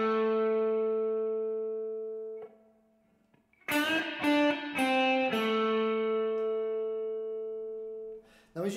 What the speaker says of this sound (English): the string bending, the first phrase sounds like this.